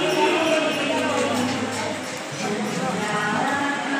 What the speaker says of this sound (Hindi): ये वो नहीं जा पा रहे, वो घोड़ा से जा रहे हैं